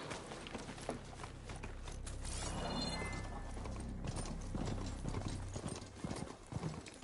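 Steady clip-clop of horse hooves trotting in the video game Horizon Forbidden West, mixed with ambient game noise and no speech over it.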